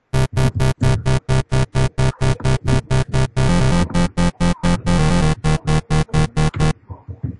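A dubstep beat built in FL Studio, with loud rhythmic gated synth chords stuttering in fast even pulses and a sustained stretch midway, ending abruptly, close and without voices.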